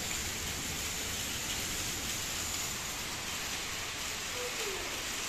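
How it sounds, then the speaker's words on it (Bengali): Steady rain falls outdoors as a constant, even hiss that stays at a moderate level throughout, with no clear voices over it. "হ্যাঁ বৃষ্টি পড়ছে।"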